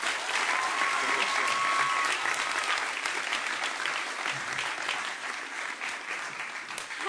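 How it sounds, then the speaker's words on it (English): Steady round of crowd applause for the governor and secretary at a back-to-school education event, sustained clapping throughout at moderate distance with no speech over it. "Let's give, again, the governor and secretary one more round of applause."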